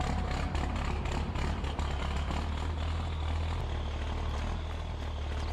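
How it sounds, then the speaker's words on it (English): Truck engine in Farming Simulator 22 droning steadily at close range, a constant deep rumbling hum with a slightly propeller-like whir, unbroken and fairly loud throughout. "They changed the engine sounds as far as I can tell."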